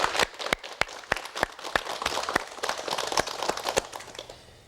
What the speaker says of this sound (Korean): 여러분 환영의 박수를 부탁드리겠습니다